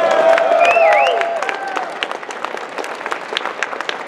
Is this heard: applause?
yes